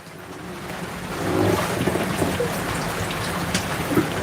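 Steady rain patters on an anchored boat off Biak, Indonesia, a dense continuous hiss of drops that swells slightly after the first second and holds, with no voices.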